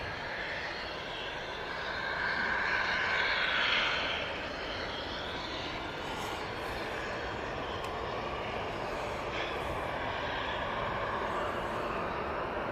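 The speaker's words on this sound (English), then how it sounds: "this EasyJet's now starting up" EasyJet airliner at Manchester Airport starting its engines, a steady broadband roar with a rising whine building near the start, heard from a distance and continuing throughout without speech.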